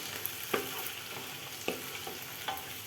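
Tomatoes sautéing in a pan for village-style chicken biryani, a low continuous sizzle with a few soft stirring scrapes spaced about a second apart.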